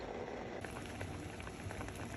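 Strawberries, sugar and water boiling in a pot on a stove over medium-high heat, a steady close bubbling hiss with faint pops throughout.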